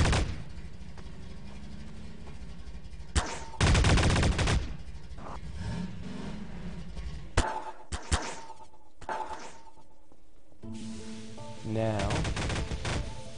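A turret firing in Garry's Mod, rapid bursts of gunfire with sharp shots punctuating a noisy game soundscape, loud and close, while someone speaks briefly.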